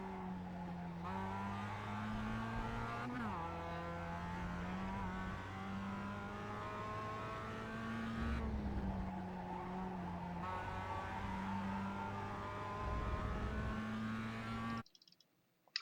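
A Mazda MX5 race car engine in iRacing at Laguna Seca drones loudly and continuously, pitch climbing and dropping through shifts with faint tire squeal, then cutting off abruptly at the end.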